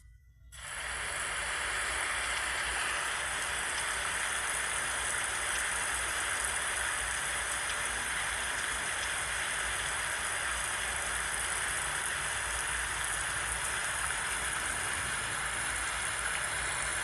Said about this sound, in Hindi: और तेज वर्षा आने लग गई।